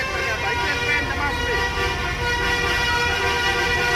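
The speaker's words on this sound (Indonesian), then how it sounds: "Oke guys, itu ada suara telolet." A loud, multi-tone Indonesian telolet musical bus horn plays continuously nearby, its melodic toots layered over engine and crowd noise.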